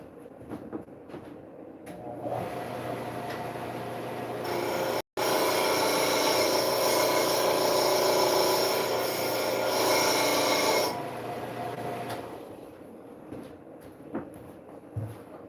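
A carving tool is sharpened with steady rasping strokes against an abrasive surface in a freezing cold setting. The sound builds to a loud, continuous scraping run in the middle, with quieter rubbing before and after.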